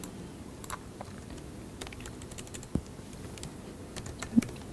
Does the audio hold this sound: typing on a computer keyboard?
yes